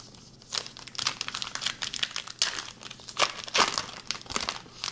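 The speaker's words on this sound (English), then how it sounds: "Let's open the packs" Foil trading card packs from a Topps Stranger Things Season 2 box being torn open, with dense crinkling and sharp ripping bursts continuing up close for several seconds, with no talking.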